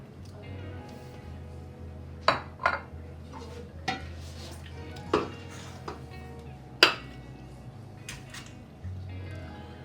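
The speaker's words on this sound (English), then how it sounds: "I'm going to just start plating." Pasta fagioli is served from a pot into dishes: a spoon or ladle clinks sharply against pot and plates several times at irregular intervals, close by, over a quiet kitchen background.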